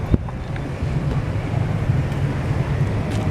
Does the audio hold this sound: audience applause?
no